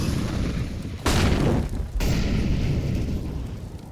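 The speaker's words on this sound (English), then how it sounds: "Likely going to barrage some flashbangs in alongside Kenny S." Flashbang grenades bursting in a CS:GO pro match, one loud muffled boom followed by a second blast about a second later, dense and close against a steady background rumble.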